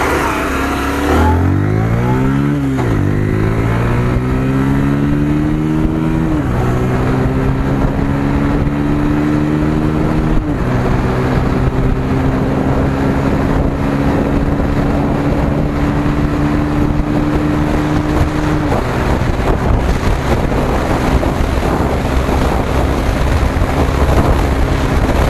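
A Bajaj Pulsar 125 motorcycle accelerates hard through its gears toward top speed, its engine note climbing and dropping at each shift before holding a steady high drone under heavy rushing wind.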